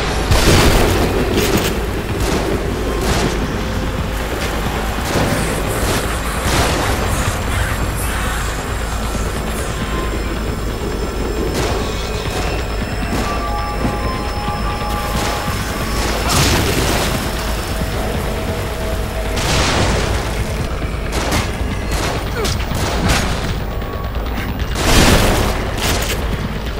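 Repeated heavy booms of dynamite explosions in the survival horror game The Evil Within, loud and dense over a continuous rumbling game soundscape, with several sharp blasts standing out across the stretch.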